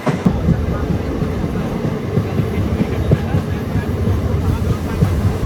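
A Nepal Railway passenger train runs near the India–Nepal border, its steady rumble and rattling wheels filling the space throughout, with faint voices mixed in.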